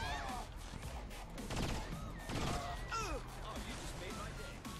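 Weapon fire in Saints Row 4: a gun shooting a blue beam bursts out in repeated loud blasts and crackles, mixed with game effects and people talking.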